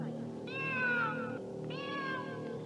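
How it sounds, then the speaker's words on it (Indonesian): Two drawn-out cat meows, the first longer and rising then falling, the second following after a short pause, over a steady low background hum. "Suara kucing itu terdengar secara tiba-tiba"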